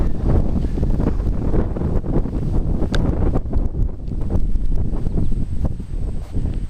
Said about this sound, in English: it's supposed to be pretty windy today